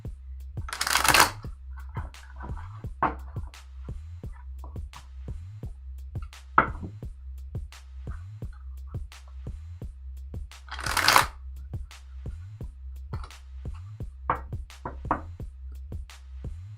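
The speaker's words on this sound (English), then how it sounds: "I'll pull 3 cards on that right now" Tarot cards are shuffled by hand in a rapid series of crisp riffling bursts. Two longer, louder riffles are spaced apart, with lighter card taps and slides between them. A steady low hum runs underneath, close and clear, with no talking.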